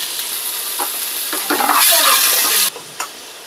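Hot oil sizzles as onions and curry leaves fry in a pan with mustard seeds and dried red chillies, with a brief stir and a sharper hiss midway before it settles.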